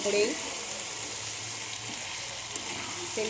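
Chicken chorchori cooks in oil with no water added, a continuous close sizzle and hiss with a faint stir or scrape near the start and end, and no clear speech.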